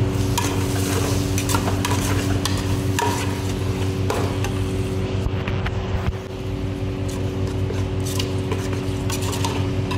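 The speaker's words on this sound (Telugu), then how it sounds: "టమాటాలు వేసుకున్న తర్వాత చూడండి కొంచెం కలుపుకోవాలి." Tomatoes being stirred in a pan for fish curry, with a steady close sizzle and repeated scraping stir strokes, and a constant low hum from a burner or fan underneath.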